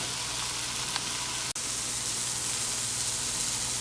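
A beef, cheese and rice mixture sizzles steadily in a skillet, a constant hissing fry with one brief sharp tap partway through and no talking.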